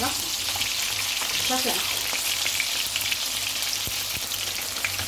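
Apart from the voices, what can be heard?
chicken frying in hot oil and ghee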